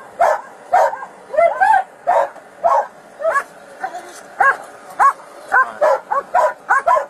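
A police K9 dog barks repeatedly and loudly at a traffic stop in a parking lot, a steady run of sharp barks roughly every half second, close and dominant.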